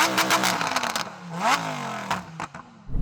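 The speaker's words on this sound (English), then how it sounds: "Let's have a listen to this Lamborghini." A Lamborghini Huracán engine revs hard in rapid bursts, rising and falling in pitch, close and loud, with a short pause before another rev.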